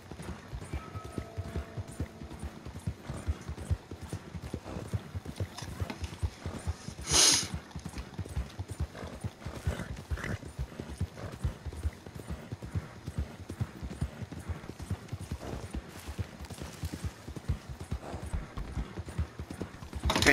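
Horse hooves clip-clop in Red Dead Redemption 2, a steady, continuous trotting rhythm running throughout at moderate volume, with a brief burst of another sound partway through.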